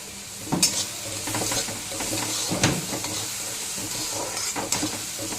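Onions with ground coriander, cumin and salt frying in a pan for potato-onion kachori filling, a steady close sizzle with intermittent stirring scrapes and clatters throughout, no talking.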